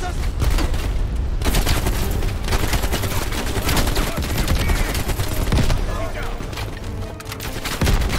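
Dense automatic and rapid rifle fire in the Call of Duty: Black Ops Cold War campaign rattles loud and near almost without pause, with booming impacts and a player talking over the shooting.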